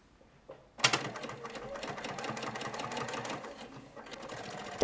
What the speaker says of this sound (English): Double top stitch the pocket opening.